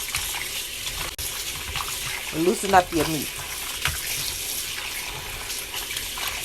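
Hot water runs steadily from a kitchen tap over meat being washed for a chicken and beef stew, a continuous hiss with a short spoken phrase partway through.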